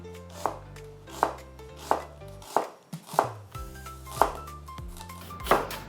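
A knife chops food into thin julienne strips on a cutting board, about eight sharp, evenly spaced strokes close up, while a low musical tone holds underneath.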